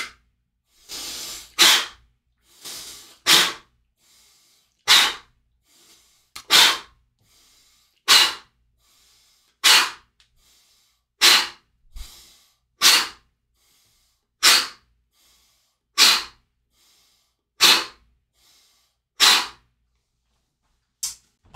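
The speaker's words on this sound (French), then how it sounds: "On gonfle le ventre, on souffle, on rentre le ventre." A person does a power-breath exercise, pushing the belly out and pulling it in. Sharp, forceful breaths come in a steady rhythm, roughly every one and a half seconds, about fourteen times. They are close and loud, with quiet gaps between them.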